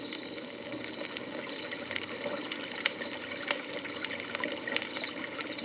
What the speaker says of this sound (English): You think we should throw in the river sounds in there?